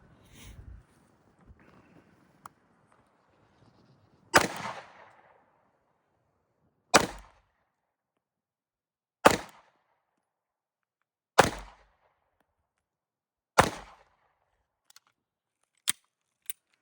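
A Canik MC9 Prime pistol fires five sharp, evenly spaced rounds at 12 yards. Each crack is loud and close with a short decay, and a few faint clicks and small handling noises sit between them.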